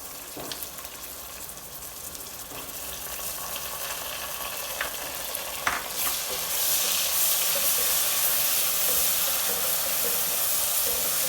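Ginger garlic paste sizzling and frying in hot oil for chicken biryani, a steady close hiss that swells louder partway through, with a few brief clinks and stirring sounds and no talk.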